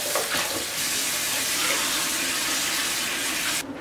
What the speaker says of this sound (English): And then add the water.